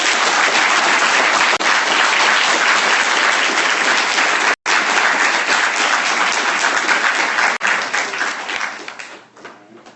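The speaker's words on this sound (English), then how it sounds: "Let's all give Bill a big round of applause." A business-school audience applauds a guest speaker, an investment executive, with loud continuous clapping filling the room for around nine seconds, then thinning out and fading over the final second.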